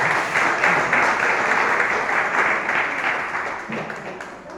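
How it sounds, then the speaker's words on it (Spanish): A church congregation bursts into loud, dense applause for the Lord, sustained clapping that gradually tapers off toward the end. "Denle ese aplauso al Señor si quieren."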